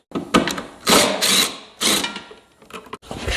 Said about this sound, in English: So this is a 10mm socket I'm going to use to pull these 3 bolts.